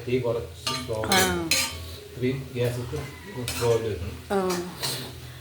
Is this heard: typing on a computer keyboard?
no